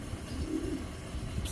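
Racing pigeons, a large breeding pair of the 25 line, coo softly in a low, continuous murmur, fairly close, with no voices over them.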